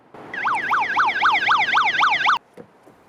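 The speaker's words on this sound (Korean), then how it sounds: "이럴 땐 사이렌 기능." A Unihertz Tank 2 rugged phone blares its built-in siren in a park at night, a loud, close, rapidly warbling wail repeating about eight cycles before cutting off abruptly.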